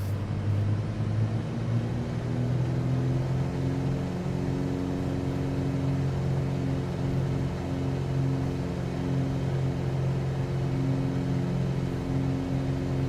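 Piper Cub light aircraft taking off from runway 28 right: a steady, loud single-engine drone with a constant propeller hum holding level throughout, no voices.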